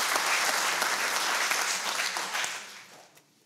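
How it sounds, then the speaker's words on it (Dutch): Enthusiastic audience applause, loud and sustained, then tapering off and fading out near the end. "Nog een applaus voor Claire van Beven."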